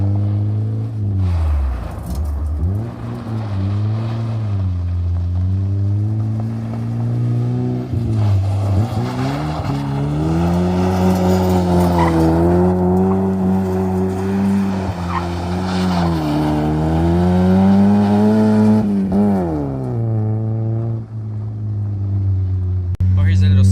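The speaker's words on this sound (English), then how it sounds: "leave a clip here of me doing some fun stuff, doing some drifting" A Mazda Miata drifts with its engine revving hard and rising and falling in pitch while tires squeal and skid, loud and continuous, with a voice talking over it.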